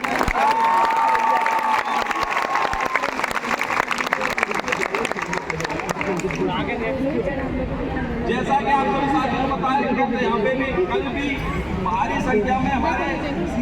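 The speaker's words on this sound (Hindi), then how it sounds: "मैं चाहूंगा एक बार जोरदार तालियां" Loud applause and cheering rise from a large crowd of community health officers at a protest sit-in in Lucknow, steady throughout, with someone speaking over the crowd at the start and chatter mixed in.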